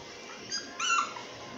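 A Tibetan Mastiff gives two short, high whimpers close by, the second longer and more strained, over a faint steady background.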